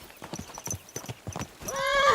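Horse hooves clip-clopping in the medieval role-playing game Kingdom Come: Deliverance 2, a quick irregular run of hoofbeats at moderate volume, followed by a loud horse neigh at the end.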